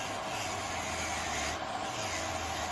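Electric nail drill, an ANBEISTEE rated to 45,000 RPM, filing down and shortening a nail, giving a steady close rasping rub with a constant high hiss that runs unbroken for the whole stretch, with no voices.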